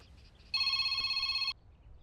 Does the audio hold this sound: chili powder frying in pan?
no